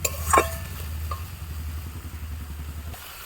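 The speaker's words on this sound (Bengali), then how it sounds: "এবার আমি মশলাটা খুব ভালো করে কষাবো যতক্ষণ না মশলা থেকে তেল ছাড়ছে।" Spice paste for a Bengali mustard-style fish curry fries and is stirred in hot oil, a steady low sizzle with scraping stirs throughout and a brief clatter near the start, fairly close and without talk.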